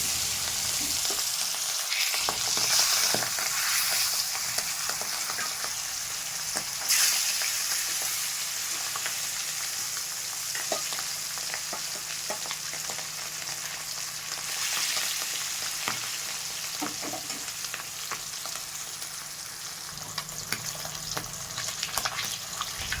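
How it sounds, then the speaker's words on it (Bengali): Pangas fish fry in hot mustard oil in a kadai, a steady bright crackling sizzle that carries on throughout with occasional louder spits and pops. "তেল গরম হয়ে গেছে, এবার মাছগুলো ভেজে নেব।"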